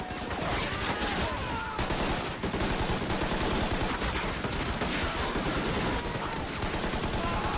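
Sustained machine gun fire from a World War II Pacific battle scene, loud continuous bursts overlapping with other gunfire and explosions, densely layered with no break for the full length.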